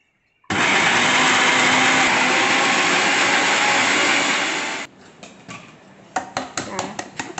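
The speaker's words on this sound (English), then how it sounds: "I feel like my blender is overheating." A loud blender grinds peanuts steadily for about four seconds, then stops, followed by a few sharp taps and clinks.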